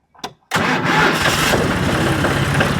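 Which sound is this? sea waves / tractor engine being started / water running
tractor engine being started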